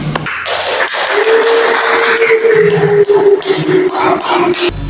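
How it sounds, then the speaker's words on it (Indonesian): A classroom audience at an Indonesian university teaching session claps loudly and fairly close, a brisk wash of hand claps with shuffling and a low steady hum underneath. "Oke, terima kasih banyak kepada Abdurrahman, boleh tepuk tangan."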